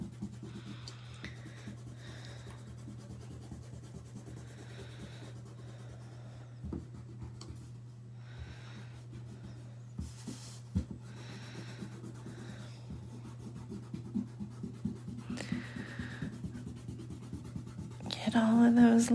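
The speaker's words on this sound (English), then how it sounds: "now, yep, it is erasing time" A pencil drawing of a bee on paper is rubbed with an eraser in short, intermittent scratchy strokes, faint at first and growing busier and louder near the end.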